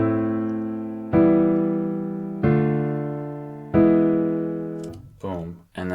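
A chord progression on a software instrument in Logic Pro X, dropped down an octave: four sustained, slowly decaying chords struck one after another, followed by a brief different sound at the end.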